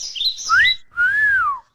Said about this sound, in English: that's a cardinal. That's how they, that's their voice.